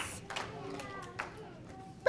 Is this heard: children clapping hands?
yes